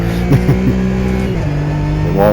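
A race car in a racing video game revs its engine in first gear with a steady droning tone, then climbs sharply in pitch near the end, fairly loud with no speech over it.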